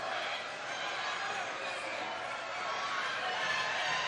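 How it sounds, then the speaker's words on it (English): A wrestling crowd at a 1988 AWA match between Jerry Lawler and Curt Hennig fills the arena with a steady, dense roar of voices. No distinct chant rhythm stands out from the continuous din. "Crowd starting to get behind Jerry the King Lawler now, Rod. Trying to get a chant going."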